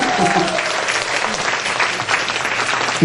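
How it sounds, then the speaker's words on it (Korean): An audience at a company's tenth-anniversary event applauds for about three seconds. The clapping is steady, moderately loud and fairly close, with some murmuring voices underneath. "박수가 이렇게 적게 나와서 뭐 받으실 수 있겠어요?"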